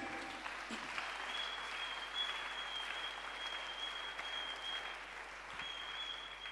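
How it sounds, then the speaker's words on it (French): A church congregation claps for Jesus during a worship service, with dense, steady applause holding for about six seconds and a faint high tone ringing above it. "Clap your hand for Jesus."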